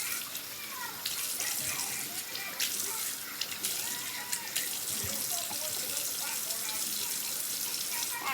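Tap water runs steadily into a sink while a sponge is rinsed, a continuous splashing gush close by with small shifts in flow and a few knocks.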